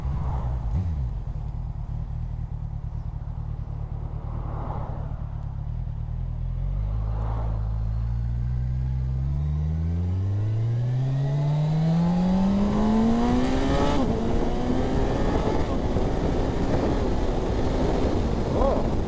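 A Kawasaki Z1000SX motorcycle accelerates hard, its engine note rising steadily through the gears in one long climbing pull. The sound is loud and close, with wind rushing over the microphone.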